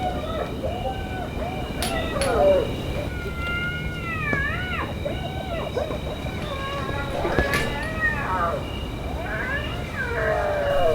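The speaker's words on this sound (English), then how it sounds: "It's a group of hyenas and they sound scarily close." A group of hyenas calls at night near a tent on a Tanzanian safari, with rising and falling whoops and wavering cries overlapping steadily throughout and sounding fairly close.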